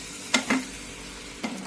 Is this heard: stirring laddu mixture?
yes